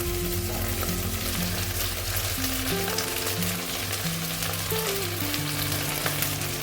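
Cut okra sizzling and frying with tomato in a pan, a steady continuous crackle with no talking.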